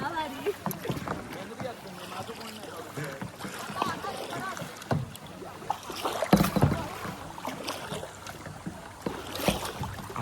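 A fiber kayak is paddled on open water off Khavane, with irregular splashes and dips of the paddle, some wind buffeting the microphone, and people talking and laughing throughout.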